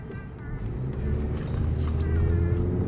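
A Toyota Corolla driving in sport mode, its engine a steady, close, low drone that grows slightly louder as it accelerates.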